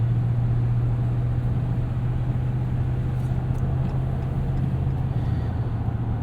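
A 2018 Ram 1500 pickup engine drones loudly and continuously at high revs past 5,000 RPM, with a constant low hum and broad rushing noise throughout.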